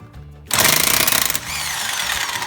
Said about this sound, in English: They put this lug nut on way too tight, so we're gonna have to use the bigger impact hammer.